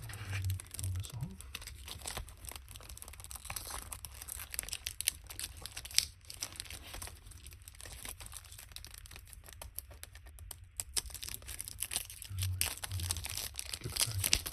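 Packaging film being peeled off a Target exclusive soundtrack album with a fold-out poster and photo card, a soft continuous crinkling and tearing close to the mic, quiet, with a low background hum.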